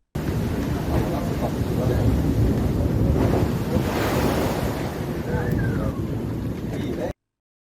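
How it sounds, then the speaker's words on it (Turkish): Giant storm waves from a strong poyraz wind pound the Tekirdağ coast on the Marmara Sea, a loud continuous roar of surf with heavy wind buffeting the microphone throughout. "Tekirdağ kıyılarında oluşan dev dalgalar adeta şehre akıyor."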